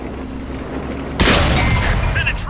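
Artillery shell impact and explosion in the tank combat game World of Tanks, a single loud sudden boom about halfway through that rumbles and decays, following a quieter stretch of low rumbling battlefield noise.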